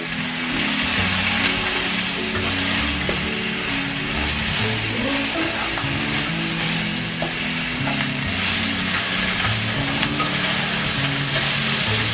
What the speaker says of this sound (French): Voilà, je mélange bien tout ça.